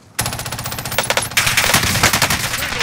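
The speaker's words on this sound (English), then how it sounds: "They're shooting me." Rapid automatic gunfire in Call of Duty Warzone, a near, loud machine-gun burst rattling continuously for a few seconds with dense overlapping shots and no talk.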